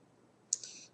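A single short mouse click closes a window in PowerPoint, crisp and close against near-silence.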